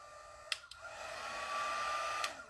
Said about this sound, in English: And then our dryer. I love this thing because it's not super loud.